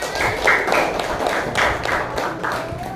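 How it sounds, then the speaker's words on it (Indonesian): A classroom of students applauding together at the end of a lesson, loud and close, with steady clapping swelling in several waves and no voices. "Oke, tepuk tangan dulu semuanya."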